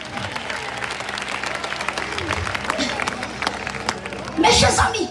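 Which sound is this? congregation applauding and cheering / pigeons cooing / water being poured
congregation applauding and cheering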